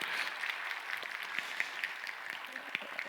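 Church congregation applauds youth teachers with soft, scattered clapping, distant and faint, individual claps popping out over a low room murmur.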